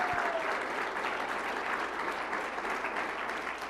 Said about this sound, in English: I think we should give a round of applause to crazy, zany, wonderful, hardworking friend Jim Booker